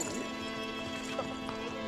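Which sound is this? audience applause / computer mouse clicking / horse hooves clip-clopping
horse hooves clip-clopping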